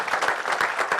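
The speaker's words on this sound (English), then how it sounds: "Let's give them a round of applause for it" Audience applause at a running-event press conference, a short steady burst of many hands clapping fairly close and fairly loud, with no talk over it.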